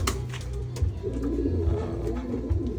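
Pigeons coo close by in a loud, steady run of soft, throaty calls that carry on without a break, with no voices over them.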